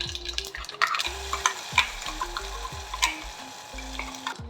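Ground masala dropped into hot tempering oil, sizzling steadily while a spoon scrapes and clacks repeatedly against the pan, close and fairly loud.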